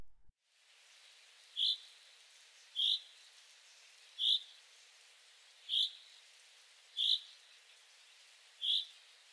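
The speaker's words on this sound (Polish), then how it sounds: "Zięba umiarkowanie zaniepokojona." Chaffinch giving moderately alarmed calls: six short, bright call notes repeated at even intervals of about a second and a half, each clearly standing out over a quiet, steady background hiss.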